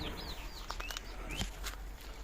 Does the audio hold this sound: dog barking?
no